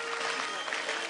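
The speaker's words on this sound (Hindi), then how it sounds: "जोरदार तालियां." A studio audience at a television talent show gives a short burst of applause, a dense, steady clatter of many hands that is fairly soft and lasts only a moment.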